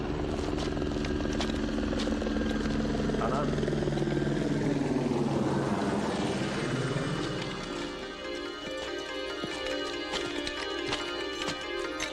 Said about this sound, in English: the relief chopper's on the way